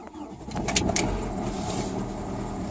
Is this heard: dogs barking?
no